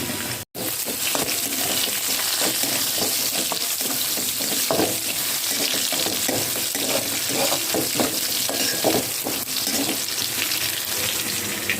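Garlic and spices sputter in mustard oil, giving a dense, continuous close sizzle with faint stirring scrapes underneath and one brief dropout near the start.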